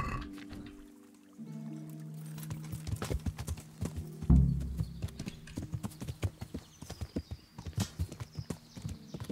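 Hooves of a black horse clip-clop in a steady walking rhythm in Kingdom Come: Deliverance, close and fairly loud over low background game music, with a brief heavier thud midway.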